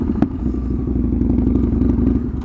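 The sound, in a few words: Yamaha V-twin motorcycle engine with straight pipes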